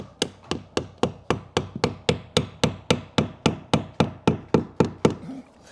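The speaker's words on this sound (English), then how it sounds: "I've opted for Jen's hammer" Steady, evenly spaced hammer strikes drive nails into wood during garden room construction, about three per second, each a sharp knock with a short decay, close and loud.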